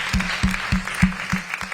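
Applause at a disability career fair, heard as a handful of separate, evenly spaced claps with short gaps between them, fairly close and moderately loud rather than a full crowd.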